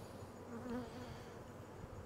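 Honey bees buzz and hum steadily around fall beehives after the honey supers have just been pulled off, with one bee droning briefly closer before drifting away.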